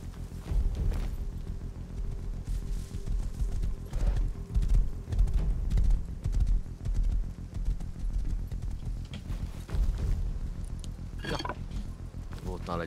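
Horse hooves clip-clop in the survival game Rust, a steady walking rhythm set close under game music and a speaking voice, with a brief whinny-like sound near the end.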